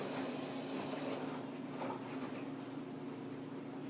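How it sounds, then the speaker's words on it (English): Maytag Maxima front-load washer and dryer running together, a faint, steady broadband whir and hum with slight rumble, continuous and unchanging, no talk. "So that's the sound of the washer and the dryer going at the same time."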